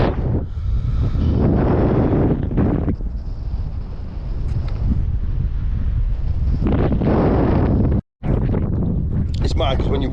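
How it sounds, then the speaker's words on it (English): Strong gusting wind buffets the microphone on open Dartmoor moorland, a loud continuous low roar that drowns out a person talking throughout, with one brief dropout near the end. "You probably can't hear a word I'm saying for wind."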